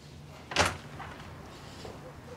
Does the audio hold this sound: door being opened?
yes